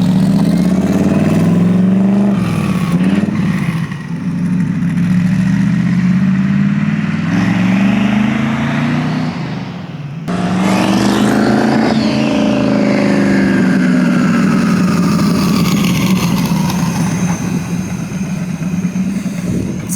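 A twin-charged Ford Crown Victoria accelerates hard, engine roaring loudly and climbing in pitch through two long pulls, with a brief dip between them.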